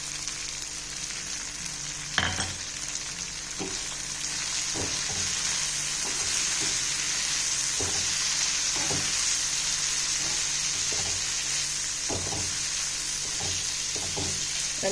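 Dried anchovies fry in a pan with chilli powder and garam masala, a constant loud sizzle broken by regular scraping and tapping as the mixture is stirred.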